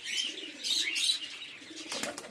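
Pigeons, including a female, coo and chirp close by in the rain, a run of soft murmuring calls with a brief flutter of movement near the end.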